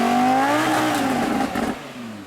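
A 2015 Lamborghini Huracan LP 610-4 V10 in street mode revs up close, its engine note rising sharply and then settling back and fading over a couple of seconds.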